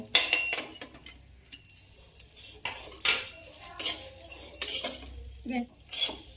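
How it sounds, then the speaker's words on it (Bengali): A utensil scrapes and clinks against a pan as vermicelli fries in hot ghee, in irregular close stirring strokes under a faint sizzle, with no talk. "গরম হয়ে গেছে ঘিটা, এবার সেমাইটা ভালোভাবে লাল করে ভেজে নেব।"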